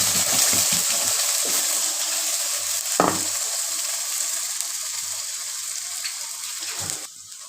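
Chutney is added to a hot tempering of oil, mustard seeds and urad dal, producing a loud, steady sizzle with a few stirring scrapes and a clank of the pan.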